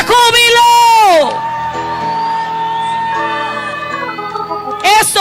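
A church congregation at a Spanish-language worship service lets out a loud, drawn-out shout of joy, then sustained tones carry on beneath before another burst of shouting closes.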